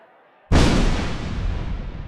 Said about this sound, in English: The explosion sent a fireball into the night sky.